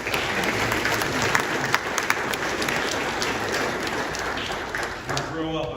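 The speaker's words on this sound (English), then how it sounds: "Can we just get a quick round of applause for Jim?" Applause for a presenter at a public county meeting about a bridge, a steady patter of many hands clapping in a room, with some louder individual claps and faint voices near the end.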